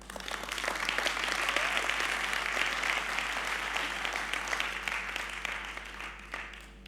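A conference audience applauds, a dense burst of clapping that holds steady and gradually thins out toward the end, alone over a faint low hum.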